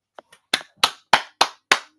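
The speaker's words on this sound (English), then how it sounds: "Everybody give that man a round of applause." Hands clap in a small round of applause: two soft taps, then five sharp, evenly spaced claps, close and clear against silence.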